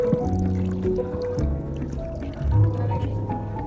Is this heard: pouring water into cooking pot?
yes